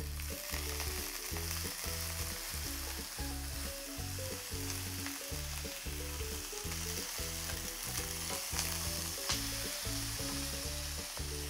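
Potatoes and saltimbocca fry in a pan at home, a steady loud sizzle with crackling bursts running continuously throughout, with no talking.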